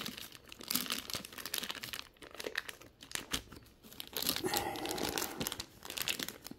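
A plastic sheet crinkles and rustles as it is laid over a jar of strawberry vinegar, giving close, irregular bursts of crackling with brief quieter gaps between handlings.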